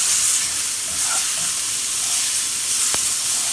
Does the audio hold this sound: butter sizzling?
yes